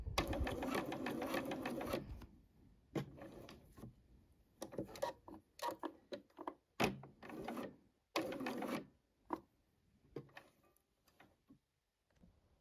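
A sewing machine fitted with a walking foot stitches fabric, running in short mechanical bursts of fast rhythmic clatter separated by pauses, close and clear with no talking.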